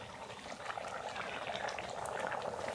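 A pot of curry with freshly added tomato bubbles and simmers in a dense, continuous, soft fizzing boil, steady and close with no talking.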